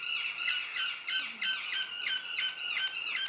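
Crimson-bellied conure squawking at a park aviary: a series of about ten sharp, shrill, rasping squawks in a fairly quick, uneven rhythm, loud and close, with no talking.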